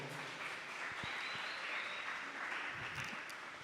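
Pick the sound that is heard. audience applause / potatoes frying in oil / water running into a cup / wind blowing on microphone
audience applause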